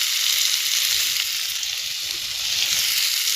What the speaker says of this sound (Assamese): অলপ টাইম আকৌ ভাজি ল'ম।